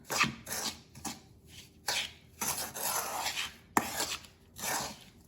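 Besan ladoo mixture being worked with ghee, giving repeated rasping, rubbing scrapes in bursts, close and moderately loud, with no talk.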